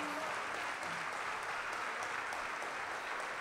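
Dense, even applause from a large crowd at the Fiesta Nacional de la Manzana, a noisy outdoor festival wash that holds at full strength for a few seconds.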